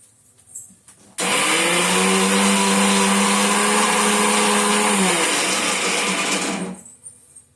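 A kitchen mixer grinder whirs loudly as it grinds neem leaves with rock salt, starting abruptly, holding a steady high motor whine for several seconds, then cutting off.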